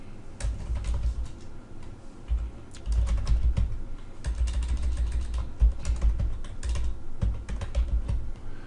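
Rapid, uneven clicking of keys on a computer keyboard, steady bursts of typing with brief pauses, fairly close and alone.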